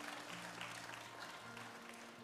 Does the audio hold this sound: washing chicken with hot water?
no